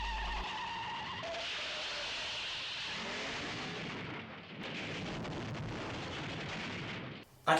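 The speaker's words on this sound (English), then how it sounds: "Bond gets himself into a car chase with the three blind mice, who end up driving off a cliff and exploding." A car chase in the Bond film Dr. No, ending with the pursuing car driving off a cliff and exploding, plays as continuous engine and tyre noise with skids and rushing, ending in a sudden loud burst.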